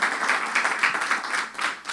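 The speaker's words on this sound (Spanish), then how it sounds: "Dele un aplauso al Señor" A burst of applause from a church congregation during a Sunday service, dense and steady clapping with slight swells, lasting a couple of seconds.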